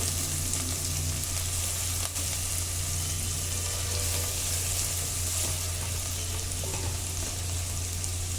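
Onions frying in a pan until they change colour make a continuous, even sizzle with a low steady hum underneath, and no voices are heard.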